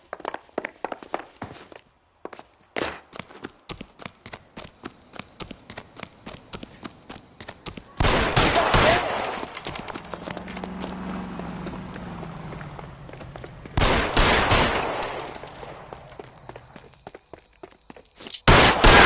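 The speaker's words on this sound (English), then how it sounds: "Shoot him. Shoot him, for God's sake!" Gunfire in the L.A. Noire video game: a quick run of sharp shots near the start, then two longer loud bursts of noisy blasts, with thumping footstep-like hits in between.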